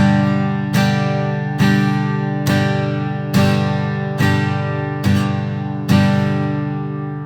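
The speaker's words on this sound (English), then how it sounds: "it'll sound like this." Eight steady guitar strums land as quarter notes in 4/4 time, each a bright, full chord that rings on until the next downstroke, played alone at a moderate, even pace.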